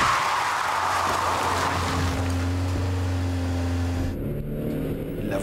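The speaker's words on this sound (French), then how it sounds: "La voiture qui arrive respecte les vitesses 50 km/h, mais elle ne peut l'éviter." A car approaches at 50 km/h on a road beside a bus, its engine hum steady and rising, then an abrupt change near the end.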